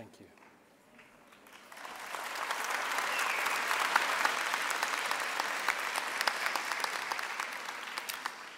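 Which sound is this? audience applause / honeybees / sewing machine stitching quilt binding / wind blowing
audience applause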